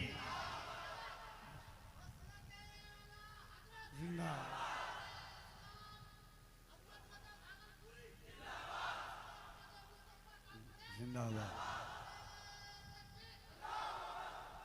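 A gathered crowd at an Eid Milad un Nabi gathering answers a call with loud unison shouts, several swelling chanted bursts recurring every few seconds between stretches of lone singing.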